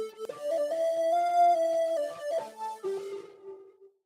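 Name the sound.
music layer processed with reverb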